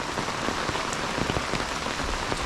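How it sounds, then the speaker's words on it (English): Heavy rain pours outdoors beneath a tree on a homestead, a dense, steady hiss of drops with scattered louder splats from drips striking nearby surfaces. "you can see we've gotten a couple inches of rain already"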